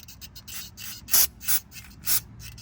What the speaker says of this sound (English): let's grab the brake clean. Yes, from O'Reilly's.